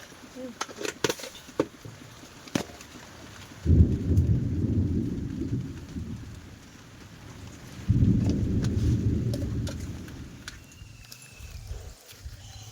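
A sudden thunderstorm with heavy rain hits a peanut field in the Sundarbans. Two deep rumbles of thunder roll in a few seconds apart over a constant patter of rain, with scattered sharp drips and knocks nearby.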